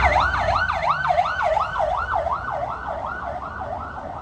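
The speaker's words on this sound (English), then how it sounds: "There's an ambulance." An ambulance siren wails on a street in Lisbon, Portugal, a steady rising and falling cycle that stays loud and fairly close throughout, with faint traffic underneath.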